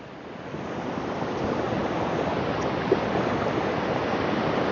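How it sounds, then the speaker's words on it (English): Ocean waves breaking on a shore at sunrise: a continuous, broad rush of surf that swells slightly louder after the first second and holds steady, with no voices. "there's a good amount of waves here."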